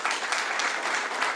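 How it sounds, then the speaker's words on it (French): Applause from a general assembly audience, steady dense clapping filling the short stretch at an even level, with no voices over it. "je voudrais vraiment qu'on applaudisse fort ce consensus encore"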